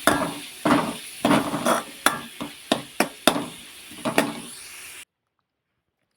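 Chopped onions and vegetables frying in oil in a pan for a samosa-style stuffing, with about a dozen irregular spatula knocks and scrapes over a soft sizzle, then sudden silence.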